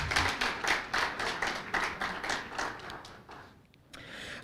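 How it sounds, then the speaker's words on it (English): A banquet audience at a scholars' awards evening claps for a musical performer, a rhythmic, fairly close patter of hand claps in even beats that thins out and fades near the end. "Give him a hand clap."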